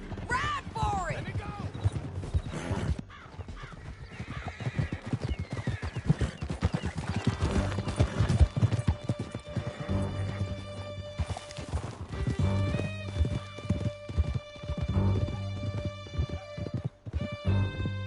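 Hooves of several horses pound at a gallop through a canyon in Red Dead Redemption 2, a steady clattering rhythm with neighing early on, backed by game music.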